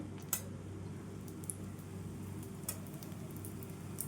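Pesarattu, a moong dal dosa, frying in oil on a pan over medium heat, giving a soft, steady sizzle with a low hum beneath it and occasional faint ticks and crackles, with no talking.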